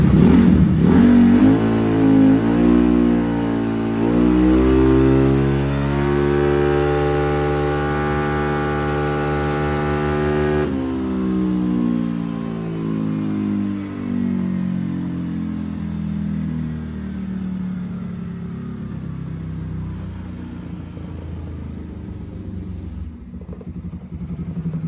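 An engine revving at wide open throttle after carburetor tuning holds a loud, steady high rev for about ten seconds, then settles to a lower, rough running note.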